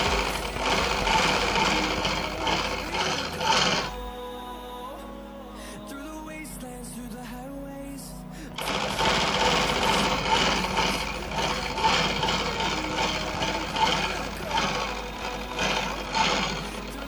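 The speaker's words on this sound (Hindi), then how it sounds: "इस तरह से एक दूसरे पर बराबर रखते हुए नीचे तक सिलाई करेंगे" Sewing machine stitching layered panels of a petticoat, a steady dense mechanical whir that halts for a few seconds midway, leaving a quieter hum with faint tones, then resumes at full speed.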